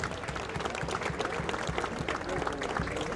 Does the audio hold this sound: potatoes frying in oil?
no